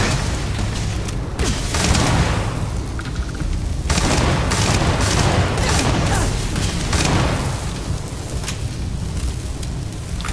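A turret firing in the space game Starfield produces continuous heavy booms and rumbling blasts, loud and dense, with brief shifts in intensity but no real pause.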